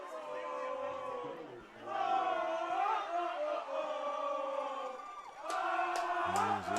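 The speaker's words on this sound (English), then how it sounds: "You can hear the crowd in front of our broadcast location start to get into this one, trying to cheer on their Bulldogs" A high school football crowd cheers for their Bulldogs at a Belmont vs Mt. Douglas game, with bursts of shouting and whooping heard from some distance, rising and falling over about seven seconds.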